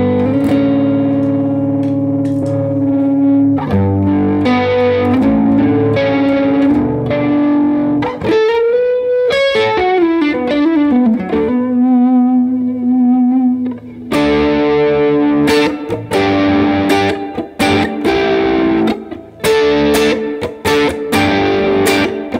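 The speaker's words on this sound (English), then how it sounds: "The first one is a subtle chorus." Electric guitar played through a Universal Audio Astra modulation pedal set to a subtle chorus, ringing chords and melodic lines with a gentle shimmer and reverb tail, played alone without talking.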